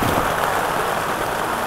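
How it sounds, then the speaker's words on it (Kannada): Heavy rain falls during a jeep safari in Kaziranga National Park, a dense, loud, continuous hiss of drops drumming on nearby surfaces with no pauses. "ಫುಲ್ ಮಳೆ ಬರ್ತಾಯಿದೆ"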